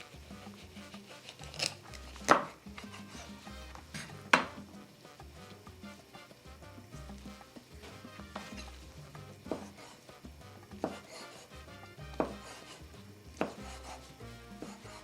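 A knife slicing chile peppers into long strips on a cutting board, with soft irregular cuts and a few sharper knocks against the board, quiet and close with no talk.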